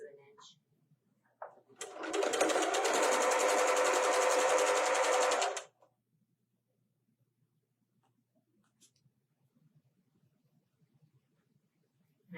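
A sewing machine stitches a half-inch pillowcase seam in one loud, steady burst of about four seconds. A few quiet clicks and handling noises come before and after it.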